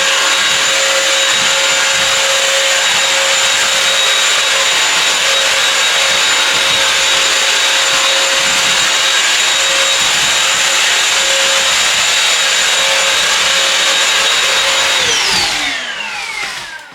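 A loud, steady motorized whine like a vacuum cleaner from a Bissell CrossWave wet floor cleaner runs continuously, then winds down and fades at the end.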